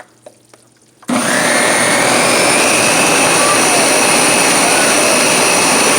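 A blender switches on after a few quiet taps and roars loudly and steadily while chopping a whole onion, its high motor whine holding to the end.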